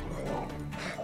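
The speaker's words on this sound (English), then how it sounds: "Oh, okay, we have a lot of wild dogs." Wild dogs in The Witcher 3 video game barking and yipping over game ambience and footsteps, a few quick close barks with someone talking faintly underneath.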